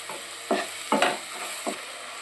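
Onion, garlic and ginger paste fries in a pan under a steady background hiss, broken by a few close scraping stirs of a spoon. No one speaks.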